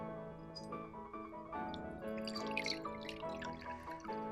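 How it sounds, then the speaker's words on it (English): Water poured into a glass tub next to a stainless steel boat makes a steady, close trickle with splashing and dripping and a rising ringing tone in the glass, continuous for several seconds with no talking. "Let's add the water."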